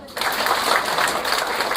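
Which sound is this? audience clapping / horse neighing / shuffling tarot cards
audience clapping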